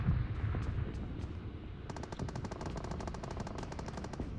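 Automatic gunfire in the mobile battle-royale game PUBG Mobile rattles in rapid continuous bursts, loud and close, with a denser volley starting midway and running to the end.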